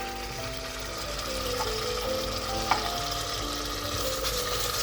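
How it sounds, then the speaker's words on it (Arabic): Tomato paste being stirred in a pot while cooking a seafood soup, giving a soft, steady sizzle with light scraping from the utensil and one small clink near the middle, fairly quiet throughout. "حركوها مزيان"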